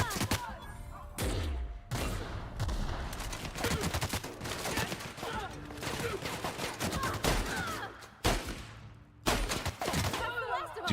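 A gun fires in the sci-fi game The Outer Worlds, bursts of rapid shots and clattering impacts broken by brief pauses, fairly close, with some talk underneath.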